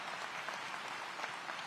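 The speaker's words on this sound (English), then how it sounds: "They deserve another round of applause." Applause from an audience at a city public safety address, a steady, even wash of many hands clapping at a distance throughout, fairly faint.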